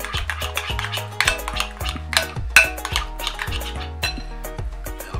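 Metal utensils clink and scrape against a bowl while fried calamari ingredients are mixed, a busy run of close ringing taps and rattles with no talk.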